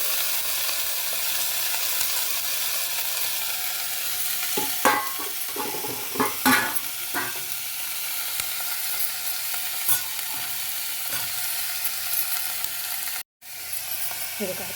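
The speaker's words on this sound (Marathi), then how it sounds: "ही कोळंबी मस्तपैकी मी त्या फोडणीमध्ये मी ढवळून घेतली आहे तेलामध्ये" Prawns stirred in hot oil during a tempering, giving a steady, loud sizzle throughout with a few sharp clinks and scrapes of the spoon against the pan partway through.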